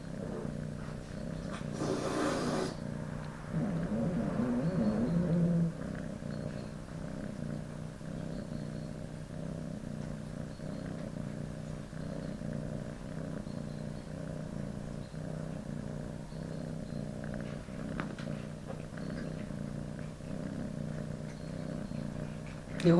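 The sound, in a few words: cat purring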